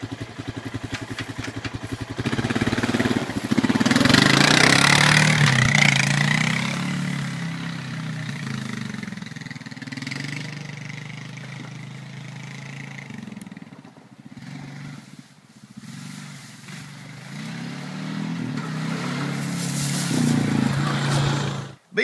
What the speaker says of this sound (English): I have adapted my chainsaw to where I can run it with one arm